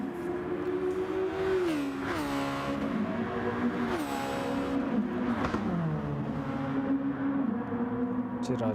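Race cars circle Monza in a racing game, their engines holding a loud sustained whine that rises and falls through repeated shifts, with a few overlapping cars nearby and no talking.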